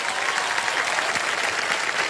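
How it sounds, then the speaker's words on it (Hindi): A dense studio audience on the quiz show Kaun Banega Crorepati applauds steadily, a continuous wash of clapping with no pauses. "एक बार जोरदार तालियां बज जाएं"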